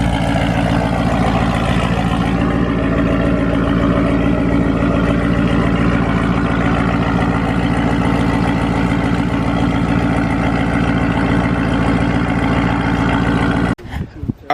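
Steady, loud Corvette C7 engine idling close by, a continuous low rumble that holds for most of the stretch before cutting off abruptly near the end.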